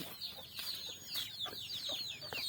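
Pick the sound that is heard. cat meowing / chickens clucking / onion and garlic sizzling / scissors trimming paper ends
chickens clucking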